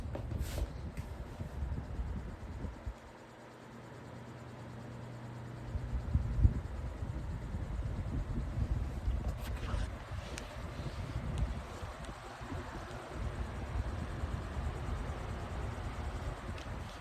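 A Lasko 18-inch table fan running on its high setting gives a steady, close whooshing airflow with a low rumble and faint flutter, continuous and without talk.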